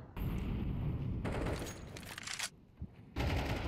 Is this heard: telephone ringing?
no